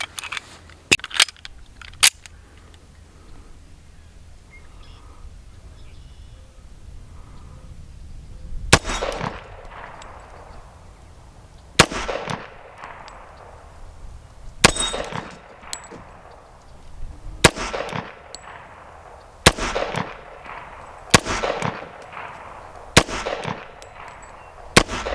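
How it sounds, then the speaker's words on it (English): Gunshots from a Taurus PT 1911 pistol firing ball ammunition at a shooting range ring out as sharp, loud single reports, a few early then spaced about every two seconds, each trailing off with a short decay. "We're just going to put a few more rounds down range and just have some fun."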